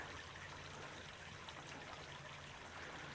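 Glapthorn Brook, a small stream, runs in a steady, continuous flowing rush of water, close and even throughout with no other sounds.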